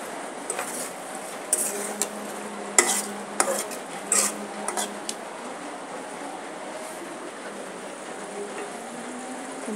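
A spatula scrapes and taps in a pan as fish is turned through spice masala, with intermittent metallic clinks over a soft background sizzle.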